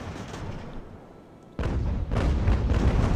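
Grapeshot cannon fire in Ultimate Admiral: Age of Sail during a close-quarters naval boarding action: a sudden loud blast cuts in midway, then a rumbling, sustained barrage follows with a second surge of booming fire.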